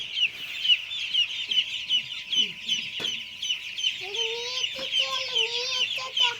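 Chickens cluck and chatter steadily over a constant high-pitched hum, with a few louder, drawn-out calls near the end; no talking.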